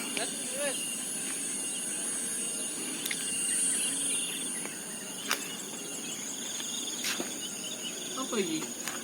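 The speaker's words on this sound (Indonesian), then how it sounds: "Akeh serangga kon" Many insects chirring outdoors near a tea garden in a geopark, a dense constant high-pitched drone with occasional sharper chirps and faint bird calls, quiet voices in the background.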